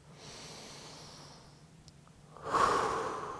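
Deep breathing during a yoga workout: a quiet, slow inhale builds, then a stronger, breathy exhale rushes out close by near the end.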